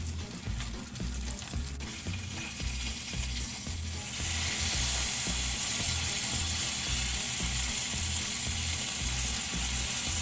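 Bacon sizzles loudly in a hot pan, a dense steady hiss that swells and brightens midway, layered over a low rhythmic mechanical churning.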